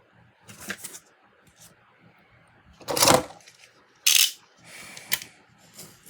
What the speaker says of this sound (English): it may be easy to cut using a paper cutter